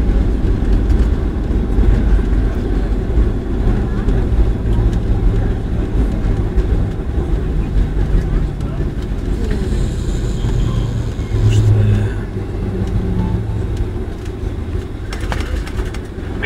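An airliner braking hard on its landing rollout at Oslo Gardermoen, heard from inside the cabin as a loud, steady low roar and rumble that holds throughout with a few faint higher tones drifting above it.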